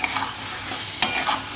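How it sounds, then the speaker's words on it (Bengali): A spice paste of chili, turmeric and salt stirred into frying potatoes and onions, a constant sizzle broken by quick scraping strokes of a spoon in the pan. "এবার আমি এই মশলাটা এই আলু আর পেঁয়াজের মধ্যে দিয়ে দেব।"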